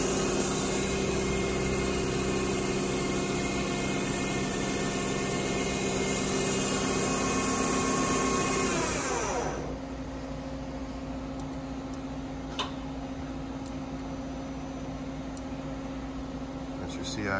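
A Daewoo Puma 240 MSB CNC turning center from 2004 runs its main spindle with a steady, loud mechanical whine and hum that cuts off partway through. A lower, quieter drone continues after it, with a few faint clicks.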